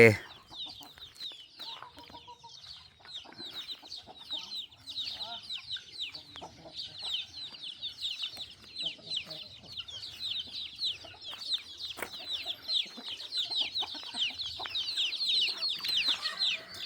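Chickens cluck steadily on a Thai village farm in the morning, with many overlapping birds keeping up a busy, moderately distant chatter throughout.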